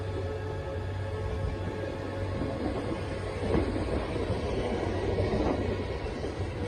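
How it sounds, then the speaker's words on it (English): Trains passing and heading east along Northwest Highway: a steady, close rumble of rolling railcars with faint clattering and squeals, continuous throughout with no talking. "Trains heading east."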